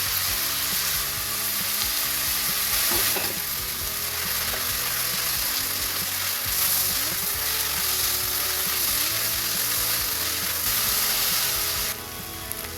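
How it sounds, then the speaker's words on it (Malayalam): Onions, crushed ginger and garlic, green chili and curry leaves frying for chicken curry make a loud, continuous sizzle with occasional stirring scrapes and a short drop at the end. "അപ്പോൾ നമ്മൾ സവാള ഒരുവിധം വഴണ്ട് വന്നിട്ടുണ്ട്."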